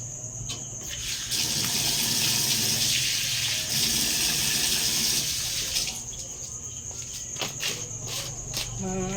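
Water pours steadily from a tap into a vessel for cooking, a rushing gush that swells and fades, with crickets chirping constantly in the background and no talk.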